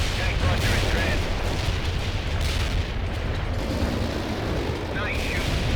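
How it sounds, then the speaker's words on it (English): A heavy artillery barrage in the strategy game World in Conflict rumbles and booms continuously, with dense overlapping blasts throughout and radio-style voices talking over it. "Heavy artillery barrage."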